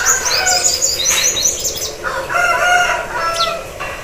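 An Aseel rooster crows loudly and close by, a long drawn-out call. Other fowl chirp and cluck in the background, and no one speaks.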